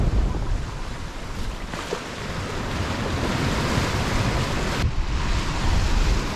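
Large set of ocean waves surging past a sailboat off the Canary Islands, a steady loud wash of surf and wind roar without pause.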